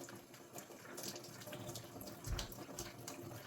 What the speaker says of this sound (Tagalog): Kailangan na siya hugasan